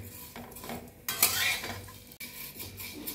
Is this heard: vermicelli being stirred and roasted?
yes